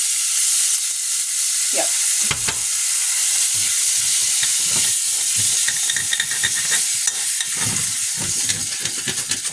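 Browned hamburger meat sizzles and spits in a pan on the stove, a steady close frying hiss with occasional stirring scrapes and a brief word spoken over it.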